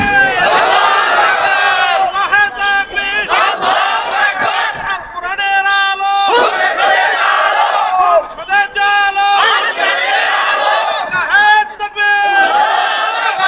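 Crowd at a Bangla religious waz gathering chanting political slogans in loud, rhythmic call-and-response bursts, massed voices rising and falling in repeated phrases with brief gaps between them.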